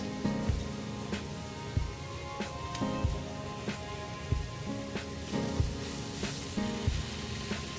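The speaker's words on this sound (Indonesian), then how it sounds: "setelah itu kita masukkan apel yang sudah kita potong-potong" Chopped apples sizzle steadily in a pan while cooking down into apple pie filling, with regular soft knocks from a stirring utensil punctuating the frying hiss.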